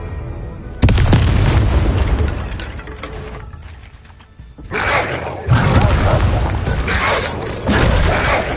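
A Bombarda blasting spell goes off in Hogwarts Legacy with loud booming explosions. A heavy blast hits near the start, and further thunderous bursts and mechanical rumbling follow over a continuous battle din.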